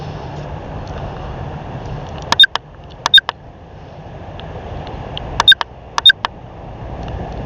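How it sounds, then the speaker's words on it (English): Two pairs of sharp electronic beeps from a camera, a few seconds apart, over a low steady hum of outdoor background noise. "I do apologize for the beeping"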